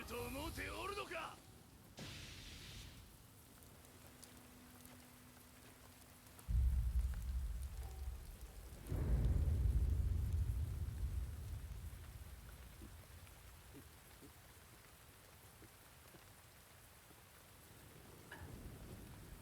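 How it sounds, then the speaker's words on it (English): Thunderstorm in the Nioh 2 video game, with steady rain on surfaces and deep rolling thunder that swells and fades. A voice speaks partway through. "once you step into the open area, thunderstorms will be striking you at all times"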